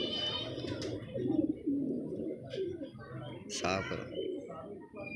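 Pigeon cooing close by in short soft throaty bursts, heard with handling noise while someone talks over it.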